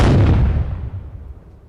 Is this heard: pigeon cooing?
no